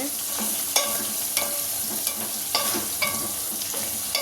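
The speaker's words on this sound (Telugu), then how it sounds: "పచ్చిమిరకాయలు ఇలా ఫ్రై చేసుకోవాలి" Green chillies fry in oil with a steady, close sizzle, broken every half second or so by the scrape and knock of a stirring spoon.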